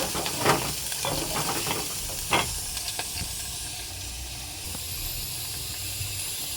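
Mutton browns lightly in a pan with a soft, continuous sizzle and hiss, marked by a few brief stirring knocks close by.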